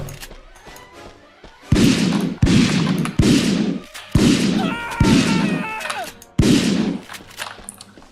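In a pre-alpha first-person shooter, a run of loud, heavy gunshots and a grenade blast thump out one after another at roughly even intervals, with faint chatter and effects in the gaps.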